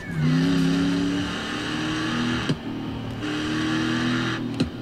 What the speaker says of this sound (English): now we're outside, you can hear that engine even more.